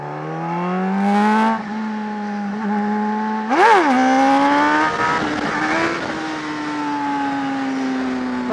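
A beginner-sized motorcycle revs up through the gears with a rising engine note, a brief squeal as it shifts into second, then a steady drone at higher speed, loud and close with no talk.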